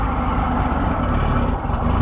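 A Norton rotary motorcycle engine, air-cooled and running poorly until warmed up, idles close by with a steady, throaty low rumble and a slight dip near the end.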